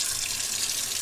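Water runs steadily from an RV kitchen sink faucet sprayer, a continuous close hiss with no voices.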